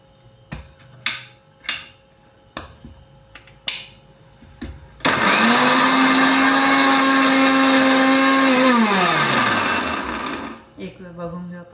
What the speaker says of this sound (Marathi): हे बारीक करून घ्यायचे आपल्याला मिक्सरमध्ये